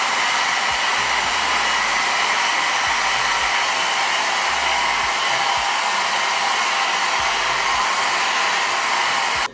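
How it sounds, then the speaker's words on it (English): A blow dryer runs loudly and continuously, a steady airy whir that never lets up until it cuts off at the very end. "to remove any knot from your hair before you trim is to use a blow dryer"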